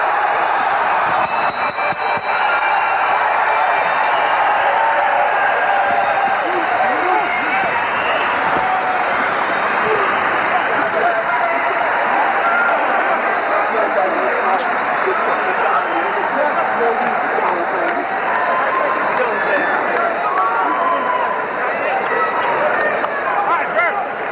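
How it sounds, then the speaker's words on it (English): A home-state boxing crowd cheers for Virgil Hill after his fight with Lou Del Valle, a dense, steady roar of many voices that fills the whole stretch and stays loud throughout. "one more big cheer for Hill from the home state crowd"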